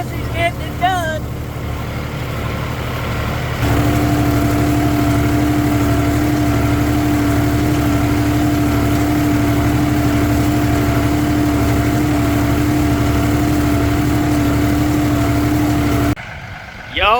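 Massey Ferguson 2607 tractor engine running steadily in a corn field, a continuous droning hum with wind noise, briefly rising in pitch partway through, with a short break near the end.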